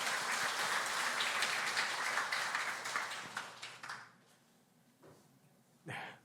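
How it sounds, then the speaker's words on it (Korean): A church congregation at a Sunday service applauds with dense, steady clapping that fades out after a few seconds, followed by a brief quiet and a single short burst of noise. "우리 축복의 박수 하도록 하겠습니다."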